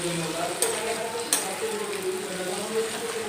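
Potatoes, cabbage and capsicum cooking in a pan for batata poha are stirred, giving a steady soft hiss with a couple of sharp scraping clicks along the way.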